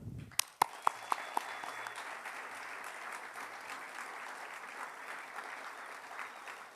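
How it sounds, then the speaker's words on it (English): A round of applause for community partners at the Vans Triple Crown of Surfing awards ceremony, opening with a few sharp separate claps before settling into steady, moderately distant clapping that carries to the end. "I want to give a big round of applause to our partners there in the community"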